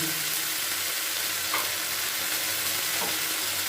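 Onion, ginger and chili paste with ground spices frying in a pan, giving a dense, continuous sizzle and hiss with a couple of faint stirring scrapes, no voices.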